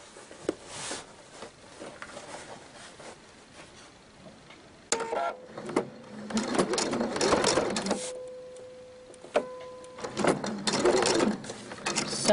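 A home sewing machine stitches around the band of a fabric apron, running in bursts with pauses, a fast mechanical whirring rattle up close, stopping and restarting several times.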